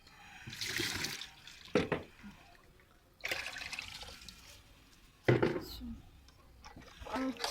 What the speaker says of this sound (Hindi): पानी डाल दूँ।